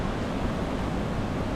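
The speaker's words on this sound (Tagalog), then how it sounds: "So malakas pa rin ang alon" Strong ocean waves rolling onto Boracay beach during the monsoon, heard as a steady, loud broadband wash of surf with constant low rumble and no distinct individual breaks, and no voices.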